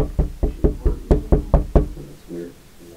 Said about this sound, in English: please knock something in this room so I know you're here